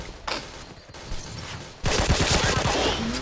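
A K2C EBR rifle fires in the game Point Blank: a few scattered shots early on, then a loud, dense run of rapid gunfire from about halfway through to the end.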